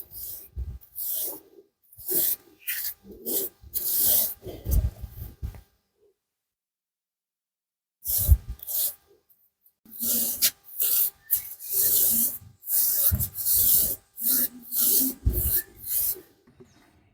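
Brush strokes rubbing a damp-proof coating onto a house wall in bright sun, heard as bursts of close rhythmic scraping and swishing separated by a pause of several seconds.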